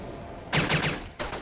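A short burst of anime gunfire from a Jujutsu Kaisen shootout, a few rapid cracking shots followed by another single shot, moderately loud and with no talk over it.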